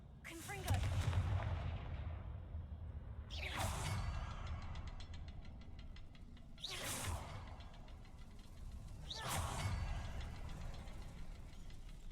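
Confringo blasting spell explosions in the video game Hogwarts Legacy, four loud booming blasts spaced roughly three seconds apart over a low rumbling background.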